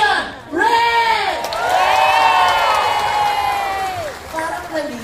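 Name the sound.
audience clapping and cheering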